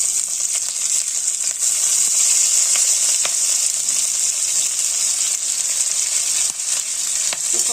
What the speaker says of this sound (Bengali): ওটা একটু ভাজা ভাজা হয়ে যাওয়ার পর প্রচুর ছেটায়, এটা কাঁচা লঙ্কার যে বীজগুলো প্রচুর ছেটায়।